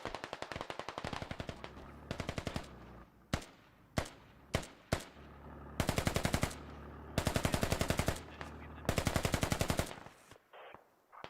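Gunfire in the Squad video game, shots fired through trees: bursts of rapid automatic fire with single sharp shots between them, loud and close, and no talking.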